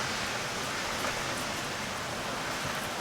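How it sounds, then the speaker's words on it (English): Heavy rain falling outside, a dense, even hiss of downpour that stays steady and constant throughout, with no voices. "Man, that rain is fierce."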